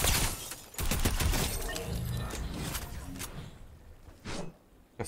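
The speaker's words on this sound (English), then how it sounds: "A fast fire rate weapon" A fast-firing weapon in Fortnite lets off a dense burst of rapid shots that crackle and shatter loudly for several seconds, then break off into a couple of shorter bursts.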